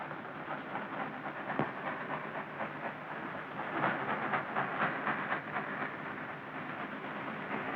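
Railroad cars roll past on the rails with a steady rumbling clatter, fairly loud and continuous, with occasional heavier knocks and swells, and no voices over it.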